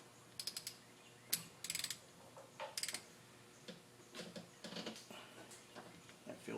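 Hand wrench tightening a bolt during a service on a 2005 Toyota Tundra with a 4.7L engine at 120K miles, giving a series of short metallic ratcheting clicks in bursts, close and fairly quiet with brief pauses between strokes.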